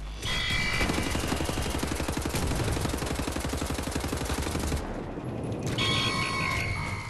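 Enemy gunfire in Wolfenstein: The New Order, a loud, rapid automatic burst of closely spaced shots that runs nearly continuously, breaks briefly and then resumes, with no talk.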